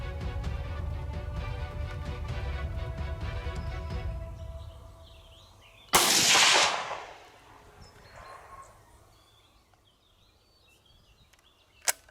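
A single sharp rifle shot at a roe buck during a hunt cracks out at a distance, following a steady rumbling hum, and then fades into quiet outdoor ambience with a faint click at the end.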